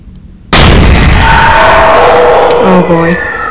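A loud explosion from the horror video game Garten of Banban 2 erupts abruptly after a brief quiet moment, then sustains as a dense roaring rumble with faint tonal game sounds trailing near the end.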